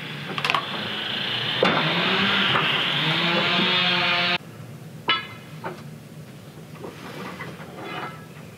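A vintage Altman Taylor sawmill carriage rolling along its track, a loud mechanical rumble with clanks that cuts off abruptly, followed by scattered clunks and rattles.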